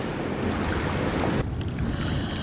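Water laps and washes along the shore of the River Thames in London, a steady, close rushing wash mixed with wind noise and no voices.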